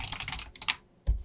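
Keys clatter in quick bursts on a computer keyboard, a dense run of taps followed by a short pause and a sharper keystroke, close and moderately loud with no voices.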